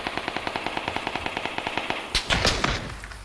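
Rapid automatic gunfire from the video game PUBG rattles in a steady burst of about twenty shots, then gives way to a louder, messier cluster of blasts and impacts near the end, with no talking.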